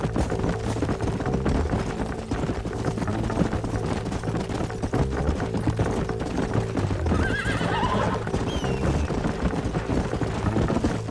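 In Red Dead Redemption, horses neigh and whinny over steady clip-clopping hooves, with a constant bed of ambient game-style background noise throughout.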